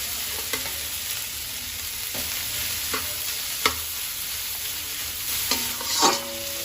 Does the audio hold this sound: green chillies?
yes